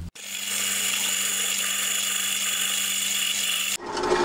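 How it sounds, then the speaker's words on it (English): A 12.5mm drill bores a hole in a workpiece on a milling machine, giving a steady, loud mechanical whine with a constant motor hum for nearly four seconds before it abruptly stops. "Right, let's drill that hole."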